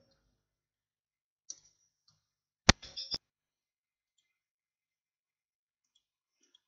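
A few sharp computer mouse clicks during copy-pasting: one faint click, then a loud quick cluster of three or four clicks a second later, with silence around them.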